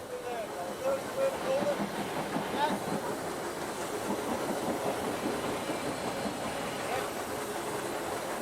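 Steam locomotive hauling a heavy 540-ton train over the top of a bank before a long downhill, giving a steady, fairly loud rumble and hiss with rail clatter throughout.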